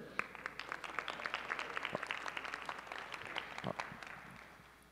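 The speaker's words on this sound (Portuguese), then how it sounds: "un aplauso para él." Modest applause from a small audience at a talk on Wi-Fi networks, distinct individual claps building slightly and then tapering off, fairly quiet overall.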